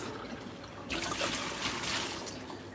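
Water trickling and splashing steadily as it fills a fish tank in a fish room, growing louder after a quiet start and running continuously without talk.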